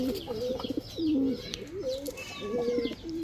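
Pigeons kept for sale at a pigeon dealer's coo close by in repeated rolling phrases, overlapping one another with a few brief chirps and rustles.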